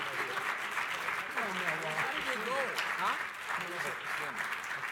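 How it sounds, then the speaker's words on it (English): A conference audience applauds mayors joining the stage at a winter meeting plenary, with sustained moderate clapping from the hall and a voice talking over it. "Let's give them a big round of applause."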